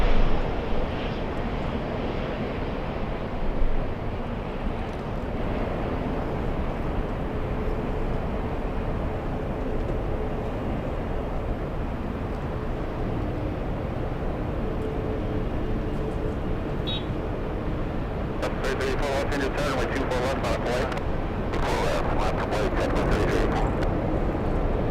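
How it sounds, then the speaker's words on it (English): Alaska Airlines Boeing 737-900 arriving at LAX from Seattle, a steady broadband jet roar holding through the whole stretch, distant then swelling slightly, with crackly texture building toward the end. "Coming in, we have Alaska Airlines 737."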